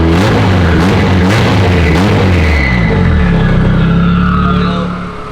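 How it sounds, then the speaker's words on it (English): Turbocharged K-series engine in a Toyota FRS, loud and close, its engine revving and exhaust note rising through several pulses, with a whistling turbo spooling above the exhaust before settling into a steadier drone. "I love how much you hear the turbo in the exhaust"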